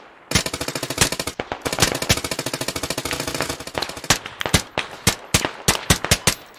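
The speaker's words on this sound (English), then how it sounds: "go ahead and just shoot those buildings to the west at a sustained rate" Sustained automatic rifle fire aimed at buildings in the military shooter Squad, close and loud, a dense rattling stream that breaks into slower, spaced single shots.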